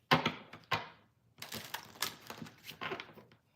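Tarot cards being shuffled by hand, a series of quick papery riffles and soft slaps in short bursts, close and fairly quiet.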